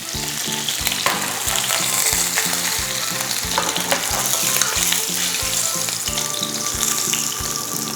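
Salmon frying in oil in a pan, a loud, continuous close sizzle with crackling, while a steady beat of background music plays underneath.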